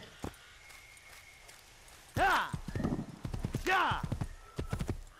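Horse hooves clip-clop at a steady walking rhythm in Assassin's Creed, fairly close and clear, with a couple of whinny-like tones mixed in and faint game ambience underneath.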